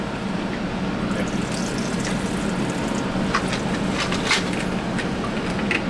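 Tap water running steadily into a lab sink while polycarbonate tubes are rinsed, with a constant splashing flow and a few brighter spatters.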